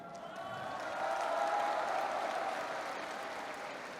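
A crowd at a National Revolutionary Party political rally in South Korea cheers and applauds the party leader, a dense, steady roar of clapping and voices that swells in the middle and then eases slightly.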